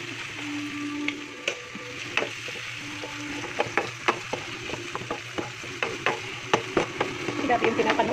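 Pasta being stirred into sauce in a pan, with repeated scraping and clacking strokes of a utensil over a soft sizzle, close and fairly steady throughout.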